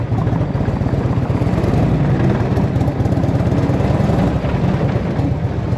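A 1984 Harley motorcycle engine idles and runs after sitting unmoved for 20 years, a loud, steady low throbbing rumble with fast regular pulses that continues unbroken throughout, with no talk over it.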